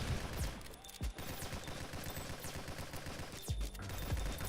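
Rapid, loud bursts of gunfire from the GunCraft video game, with a few sharper blasts standing out among dense continuous shooting as a grenade launcher is fired.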